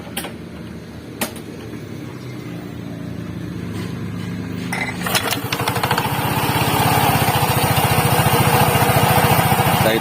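A motorcycle engine with its CVT cover removed starts after a few clicks and knocks, then runs briefly at a steady buzzing idle that grows louder and holds close by, with no voices.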